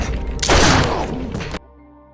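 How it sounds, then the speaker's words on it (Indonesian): Pistol shots in a film, a sharp loud blast with reverberant echo trailing off before an abrupt cut to near silence. "Tanpa ragu, dia tembak kaki salah satu anggotanya hingga akhirnya ketua mereka pun muncul."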